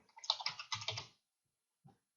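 Quick burst of keystrokes on a computer keyboard while renaming an item in simulation modelling software, about a dozen close clicks over one second, then a pause and a single final tap.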